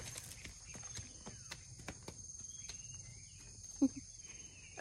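Ponies walking out to the next pasture, with sharp, irregular hoof clops and footsteps over a quiet outdoor bed of insect and cricket chirps, plus a brief louder knock near the end.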